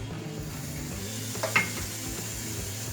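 Onions frying in a disco pan, a steady close sizzle with light stirring scrapes and a brief clink of a utensil partway through as they begin sticking to the bottom.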